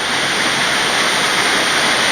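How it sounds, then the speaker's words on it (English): A small waterfall in Kanchanaburi, Thailand, heard from directly underneath: a dense, loud, unbroken rush of falling and splashing water that fills the whole moment with no other sounds. "I'm officially inside of the waterfall, underneath of it."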